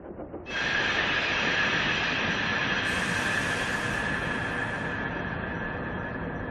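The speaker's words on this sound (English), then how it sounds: "Thomas's brakes echo." In a quarry, Thomas the Tank Engine's brakes give a sudden loud, sustained hiss with a ringing squeal running through it. The hiss holds strong for several seconds, then eases slightly toward the end. No one speaks.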